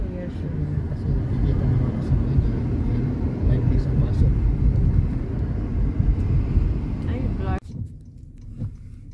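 Road traffic rumbles steadily with low engine and tyre noise from passing vehicles, loud and continuous, then cuts off abruptly near the end; a voice talks over part of it.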